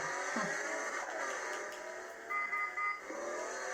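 A car engine in a night street-racing video game runs steadily, with a tonal whine that rises and shifts. A short synthetic tone cuts in near the end. No one speaks.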